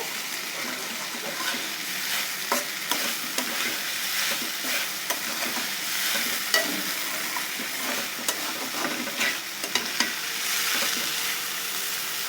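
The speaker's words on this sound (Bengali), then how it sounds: "দেখুন আমাদের কষানোটা হয়ে আসছে" Shrimp sizzling and frying in a pan while being stirred, with a steady close hiss broken by frequent scraping clicks of the spoon, no voices.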